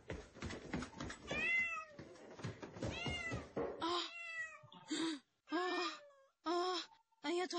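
A cat meows and wails repeatedly, close and loud, in a string of drawn-out cries that start under a man's speech and then ring out alone with short pauses between them.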